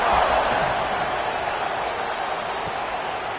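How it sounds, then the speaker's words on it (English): Stadium crowd at a Texas versus Alabama football game, a steady, loud, wide roar of many voices that holds evenly throughout, with no single voice standing out. "this crowd is buzzing after that last score"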